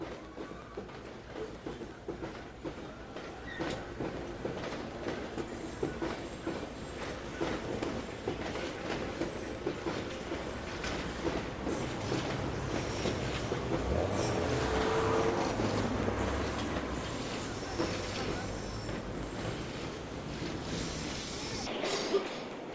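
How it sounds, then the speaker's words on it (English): London Underground Bakerloo line trains run at Queen's Park station, a continuous rumble of wheels on rail with faint clatter and occasional squeal, swelling midway as a train passes nearby. "northbound Bakerloo trains can be seen entering Queen's Park from both deep level and surface lines simultaneously"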